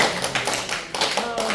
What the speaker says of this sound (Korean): 그래서 우리 하나님께 박수쳐서 감사합니다